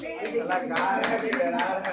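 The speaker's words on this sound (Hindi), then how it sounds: "ताली ताली एक बार ताली बजा दें" A group of friends claps hands in a quick, steady rhythm at Rock Garden, the sharp claps close and bright with voices singing along over them.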